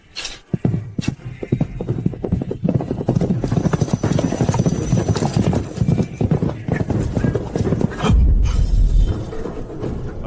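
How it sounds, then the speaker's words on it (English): Saddled horses setting off at a ride, loud clip-clop hoofbeats in a quick irregular rhythm with a horse neighing, heavy movement and a deep rumble toward the end. "Saddle the horses."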